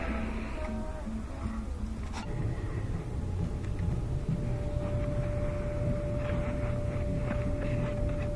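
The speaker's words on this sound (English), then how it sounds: "Alright, I'll turn on the dryer, it should blow out the rest." A gas clothes dryer starts up and runs with a steady, even mechanical whoosh and a faint constant hum, continuing without letup.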